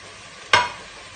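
A single quick sizzle and stir of ingredients sautéing in a pan for Marag Laham, a short burst of frying hiss that fades fast over a quiet background.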